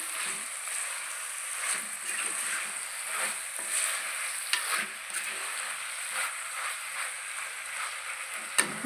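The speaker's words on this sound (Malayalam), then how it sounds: "ചിക്കനും കുമ്പളങ്ങയും ചേർത്തിട്ടുണ്ട് എന്താ നന്നായിട്ട് ഇളക്കിയിട്ട്" Steady sizzling from a hot pan as chicken and ash gourd are stirred, with scraping, clattering stirring strokes throughout, close and fairly quiet, no voices.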